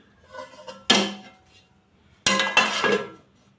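Metal lid set down on a cooking pot of jaggery semolina sheera, two sharp clanks about a second apart followed by a brief rattle as it settles, close and clear in a quiet kitchen.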